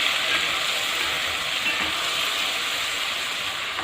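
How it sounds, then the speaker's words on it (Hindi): Onions with ginger garlic paste sautéing in a pan, a steady, even sizzle and hiss held at one level throughout with no talk. "इसको हम थोड़ा सौते करते हैं।"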